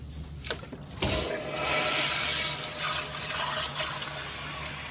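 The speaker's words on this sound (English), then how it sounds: "Did I just hear a toilet flush?" A toilet flushes with a sudden gush and then a steady, rushing swirl of water that keeps running close by, after a couple of faint knocks, with no talking.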